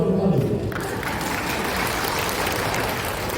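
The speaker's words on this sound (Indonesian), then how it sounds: "Tepuk tangannya malu-malu" Applause from a church gathering audience rises quickly after a brief voice at the start, then continues as a steady, moderately loud wash of clapping.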